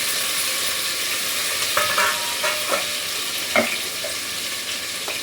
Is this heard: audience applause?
no